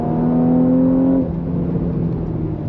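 A car engine with automatic gearbox in manual mode drones at steady revs, then the tone drops as it shifts, a close, constant mechanical hum with no talking.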